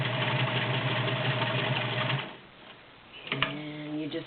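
An Electro-Grand 1.3 amp cam sewing machine running a zigzag stitch, a loud, steady mechanical whir with rapid rhythmic clatter that stops after about two seconds, followed by a couple of brief clicks.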